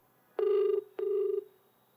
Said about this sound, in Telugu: ఇంకా కాల్ చేయలేదు, మనమే కాల్ చేద్దాం